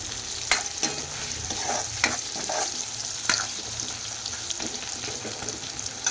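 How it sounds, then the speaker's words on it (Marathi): Onions frying in a pan for a dal palak dish give a steady close sizzle, punctuated by several sharp spatula taps and stirring scrapes, with no voices. "आता तुम्ही बघू शकता आपण कांदा भाजू देतोय."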